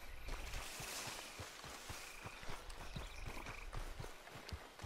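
Donkey hooves in the video game Red Dead Redemption 2, a steady rhythmic clip-clop of walking steps over a soft outdoor ambience, fairly quiet and with no voices.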